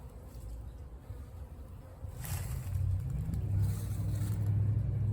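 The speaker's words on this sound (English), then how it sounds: "A lot of the bees look like they're out here just getting the moisture off of them." Honeybees buzz around snow-covered hives on a cold winter day near freezing, a low drone that swells louder partway through, with faint hum in the background.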